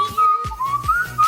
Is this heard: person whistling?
yes